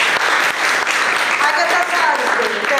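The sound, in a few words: applause for singers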